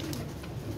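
Short, low pigeon coo from a captured bird, steady and close against a constant outdoor hum.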